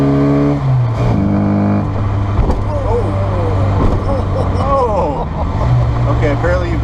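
A rare 1987 Mini Cooper driving, its engine note shifting up through gears and then steadying as a close, constant drone inside the car, while passengers talk and laugh over it.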